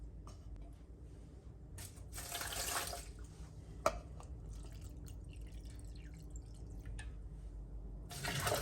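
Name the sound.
pouring water into blender with rolled oats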